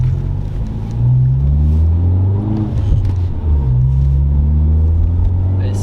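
A BMW 114i M Sport (F20) with Stage 1 tuning at about 220 hp: a steady, loud exhaust drone that rises and falls in pitch as it revs, with someone talking over it.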